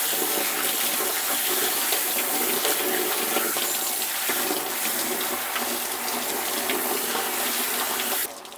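Tap water runs steadily over a freshly slaughtered, gutted chicken being rinsed inside and out, a continuous close splashing hiss that cuts off abruptly near the end.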